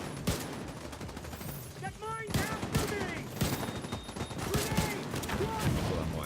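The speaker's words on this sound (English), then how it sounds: "I've even got snipers taking shots at us up top" Gunfire from snipers and other weapons in the video game The Division 2, rapid bursts and sharp shots crackling through a busy firefight, fairly dense and continuous, with someone talking over it.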